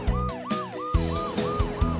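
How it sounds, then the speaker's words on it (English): A cartoon ambulance siren wails in a repeating two-tone up-and-down pattern, loud and close, over a rhythmic bouncy bass beat. "Here comes Amber the ambulance."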